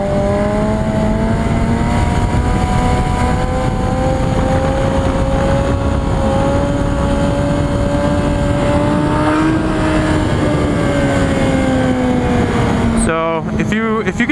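Motorcycle engine held at high revs during a sustained wheelie, a steady loud drone with slowly shifting pitch for most of the stretch, then a quick burst of choppy revving near the end; a voice talks over it.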